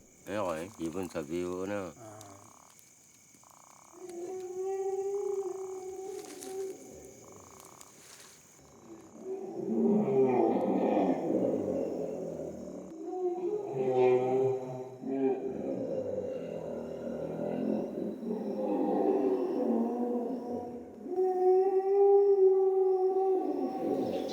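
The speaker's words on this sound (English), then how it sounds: "Hippos, you hear?" Hippos fighting at night in Cameroon, with deep grunting bellows and groaning calls that rise and fall over about twenty seconds at moderate distance, mixed with other night sounds and occasional talk.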